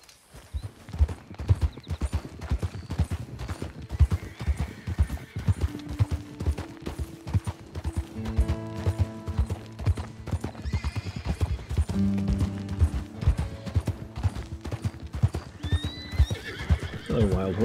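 A horse in Red Dead Redemption 2 gallops with loud, rhythmic hoofbeats and lets out several neighs and whinnies, with someone talking over parts of it.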